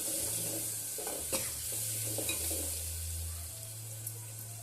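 Chicken-curry base of garlic paste and turmeric frying in a pan, stirred with steady sizzling and a few soft scrapes of the spoon against the metal, close and continuous with a low hum behind.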